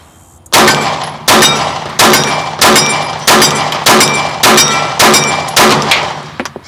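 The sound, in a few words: pistol shots from a Glock handgun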